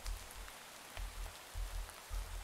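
Rain falls in the Minecraft Valhelsia 2 modpack, a soft constant hiss of drops with faint pattering, under a low rhythmic thudding that recurs about every half second.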